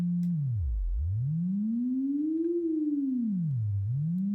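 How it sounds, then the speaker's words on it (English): A synthesizer oscillator produces a single clean sine-like tone whose pitch glides up and down smoothly as its value is scrubbed, dipping low, rising in a long arc, then dipping and rising again, steady and alone. "if I turn this up and then I scrub this number around, you'll hear the pitch of the synthesizer change."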